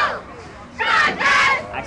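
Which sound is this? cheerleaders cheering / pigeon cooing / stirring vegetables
cheerleaders cheering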